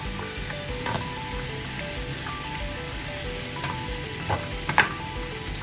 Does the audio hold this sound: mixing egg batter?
yes